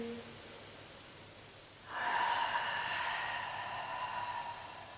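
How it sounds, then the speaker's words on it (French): A single long breath is heard up close, a quiet stretch followed by a loud, airy exhale or inhale that begins abruptly and holds steady for several seconds, with no speech. "Inspire, expire."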